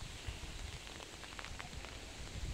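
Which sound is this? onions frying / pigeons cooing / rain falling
rain falling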